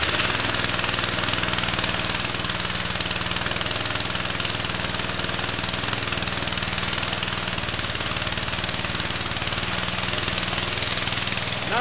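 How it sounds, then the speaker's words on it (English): A Briggs and Stratton engine on an old edger runs steadily just after a cold start on half choke, a continuous rough small-engine drone with a knocking quality that holds close and loud throughout. "Oh, it fired. First pull."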